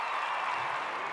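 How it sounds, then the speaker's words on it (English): A podcast host claps his hands in a short, dense burst of claps lasting about a second, close and alone with no talking. "I'm going to clap."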